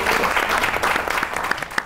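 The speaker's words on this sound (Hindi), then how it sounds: "मासी सत्तो के लिए तालियां" Studio audience applauding on a comedy talk show, a loud, dense burst of clapping with a few sharper individual claps standing out toward the end.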